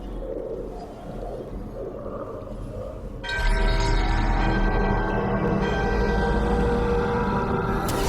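Fantasy video game scene from Dragon Age The Veilguard, where a bell is woken by a ritual: a loud, sustained metallic ringing tone swells in abruptly partway through over ambient game sound, then keeps droning steadily to the end.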